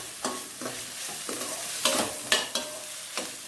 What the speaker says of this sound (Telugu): సరే కొంచెం ఆనియన్ ఫ్రై అయింది కదా